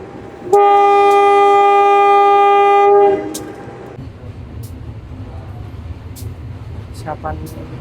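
A CC 203 locomotive pulling a passenger train at Gedangan station gives a long, loud horn blast lasting a few seconds, followed by low rumbling as the train gets under way and someone talks over it.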